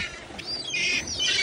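Birds squawk and chirp over a waterside spot while being fed cleaned fish gills, a run of shrill, overlapping calls close to the microphone with no talking.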